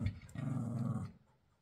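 A dog growls low and close in a short rumbling burst, pausing briefly before a sustained growl that fades into quiet.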